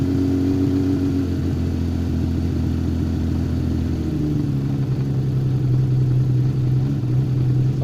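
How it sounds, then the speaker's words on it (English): A Honda CBX motorcycle engine with a European alternator revs steadily at around 1300 RPM, a loud continuous mid-pitched drone that shifts pitch partway through and holds for about eight seconds with no talking. "So what we're going to do now is rev the bike"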